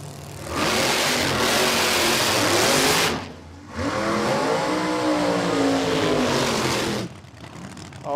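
A gasser drag racing car launches off the line at Warwick Dragway, Australia: a loud, roaring engine burst of about two and a half seconds, a short dip, then a second long roaring pass that cuts off abruptly.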